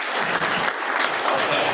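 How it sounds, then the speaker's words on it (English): A real estate summit audience breaks into dense, steady applause from many hands filling the room, loud and sustained throughout the short stretch. "Let's hold the applause for this."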